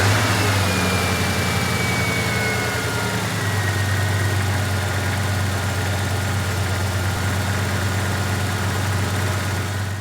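A 1980-1996 Ford Bronco or F150 truck engine idles steadily with a deep, even rumble that carries through the whole stretch, running close and loud while a vacuum gauge sits on the intake manifold supply line.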